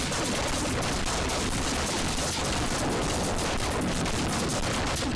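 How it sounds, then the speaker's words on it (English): Rapid, dense gunfire from the Shrooms! Tower Defence video game, a steady barrage of overlapping shots filling the whole stretch at constant loudness, with no talking. "We could upgrade you to fire the shotgun."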